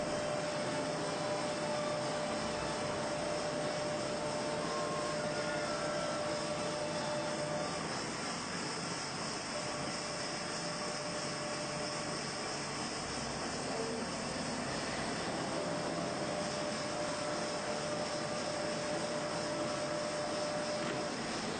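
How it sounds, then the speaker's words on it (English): A leather wringing machine with a felt-covered roller running in a tannery, a loud, constant broadband mechanical roar and hum with a faint steady tone, unchanging throughout, with no talk. "The wet leather is now wrung on a machine with a felt-covered roller"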